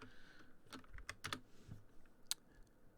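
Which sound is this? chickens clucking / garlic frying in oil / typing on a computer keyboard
typing on a computer keyboard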